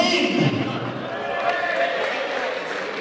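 Boxing arena crowd clapping and cheering as a fighter is introduced, a swell of applause with an announcer's voice ringing over it at first, then thinning into a diffuse murmur of hall noise.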